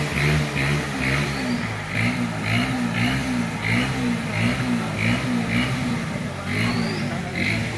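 A motorcycle engine revs repeatedly in a steady pulsing pattern, loud and close, with a rough mid-pitched drone and rhythmic throttle surges, in floodwater reaching engine height.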